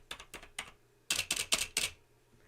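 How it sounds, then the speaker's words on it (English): Typing on a computer keyboard with big, chunky keys: a few lighter clacks followed by a burst of four louder, sharper key strikes, close and alone. "the space bar is 3 times louder than all the other keys"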